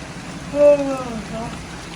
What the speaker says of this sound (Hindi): चलो जब तक हमारी टैंकी फुल होगी तो इधर से बारिश भी अल्लाह करेगा ये बंद हो जाएगी